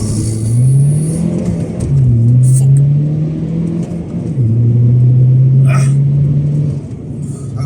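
A tuned 270 bhp BMW 123d E82 launches hard from a standstill, its engine note climbing steadily up through the gears as it accelerates, loud and close, with a brief voice partway through.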